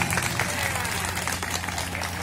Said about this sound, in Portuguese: Eu queria pedir uma salva de palmas bem grande à dança do Lili.